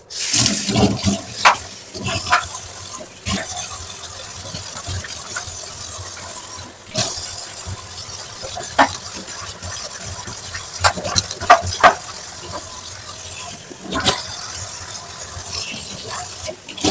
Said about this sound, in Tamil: இந்த சிங்கெல்லாம் இப்போ கழுவணும்ல